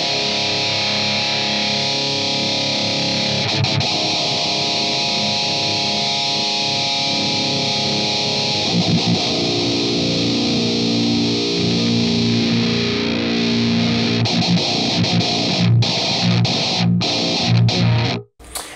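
Electric guitar played through an Axe FX III emulation of a Boss Metal Zone distortion pedal with the drive turned high, giving heavy sustained distorted chords and riffs, loud and continuous for about eighteen seconds before cutting off abruptly.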